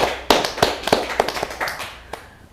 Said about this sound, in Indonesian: Tepuk tangan untuk Kota Jambi